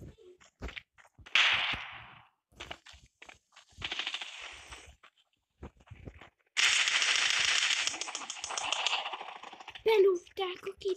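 Explosions and gunfire in an online shooter video game, a sudden burst rising to a long, loud, crackling stretch of blasts and rapid shots after scattered sharper pops earlier, dense and close.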